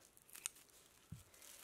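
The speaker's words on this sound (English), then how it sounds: "Take my scissors to cut the middle of this loop" Scissors snip through a loop of plastic-bag yarn during crochet, giving one quiet crisp cut followed by a soft dull click a moment later, with faint rustling around them.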